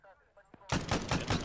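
A .50 caliber machine gun firing from up on a mountain in Arma 3, set in the Soviet-Afghan conflict: after a brief quiet moment with a faint voice, a loud, sustained burst of heavy rapid gunfire erupts and continues.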